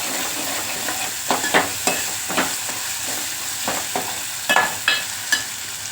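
Shrimp curry sizzles steadily in a pan while a spoon stirs it, with sharp scraping clicks at irregular intervals over the constant frying hiss; no one speaks.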